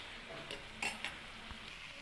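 Pan-fried turkey berry mezhukkupuratti is stirred in a pan: a faint, steady sizzle with a few soft scrapes and light clinks of the utensil against the pan.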